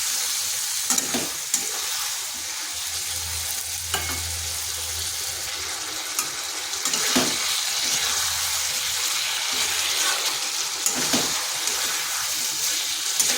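Spice paste for a rohu fish curry with ridge gourd is sautéed in a pan, hissing steadily with repeated scrapes and stirring strokes of a spatula, close and loud, with no talking.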